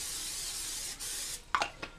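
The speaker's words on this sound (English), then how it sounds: "You want to spray your pan really well." Vegetable oil sprays onto a pan in a steady close hiss lasting over a second, followed by a few short bursts.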